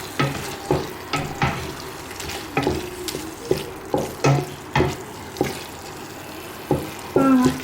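Minced meat sauce being stirred in a pan, with regular scraping strokes about twice a second over a soft sizzle, close up, with a brief faint voice near the end.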